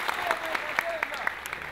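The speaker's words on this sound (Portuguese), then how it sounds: "Vamos aplaudir o Chiwanga, pessoal." Crowd applause for rapper Chiwanga at a rap battle show, a steady wash of claps with a few sharper hand strikes standing out, while a voice talks over it.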